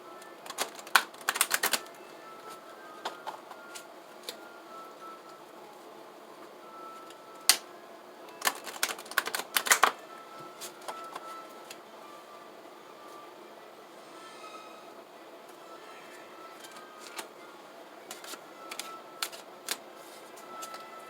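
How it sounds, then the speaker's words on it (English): Soft papery shuffling of oracle cards in short bursts with quiet gaps between, close and gentle, no talking. "I'll go ahead and shuffle you for an oracle card."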